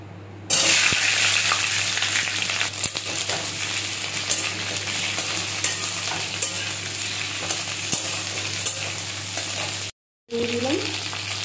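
Ivy gourd (kundri) drops into hot mustard oil and fries with a loud, steady sizzle that continues with a brief break near the end.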